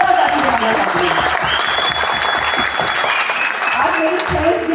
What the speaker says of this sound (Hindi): एक बार मैं सारे वॉलंटियर्स के लिए, सारे ऑर्गेनाइजर्स के लिए जोरदार ताली बजाना चाहती हूँ।